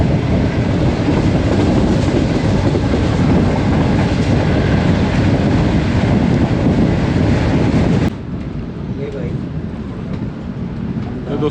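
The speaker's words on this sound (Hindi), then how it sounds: "ट्रेन हमारी अब रिनाला खुर्द रेलवे स्टेशन से पास थ्रू कर रही है।" The Shalimar Express passenger train runs through Renala Khurd railway station on the Lahore route, a loud steady rumble with rail clatter and wind rush that abruptly drops quieter near the end.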